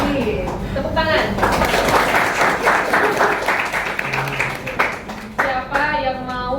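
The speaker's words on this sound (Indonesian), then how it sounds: "Tepuk tangan." Classroom clapping during a teaching practice lesson, a short burst of group applause from students over lively talk and voices, fairly close and loud.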